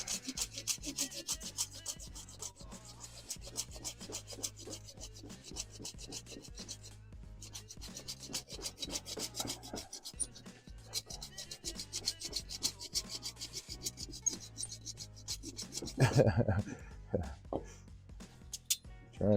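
Turning tool scraping away a wooden tenon on a wood lathe, a dense rapid rasping chatter with rhythmic rubbing, close and steady, ending in a louder burst.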